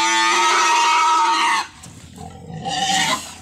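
Loud pig squeals and grunts up close as a sow is loaded onto a truck, a long harsh squeal followed by a pause and another shorter squeal, with clattering noise around them.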